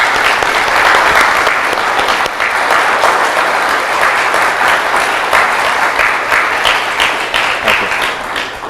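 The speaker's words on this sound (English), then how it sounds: "everyone should give a round of applause to the work that" A congregation at a coming-of-age church service breaks into sustained, dense applause, steady and full-bodied throughout with many hands clapping together.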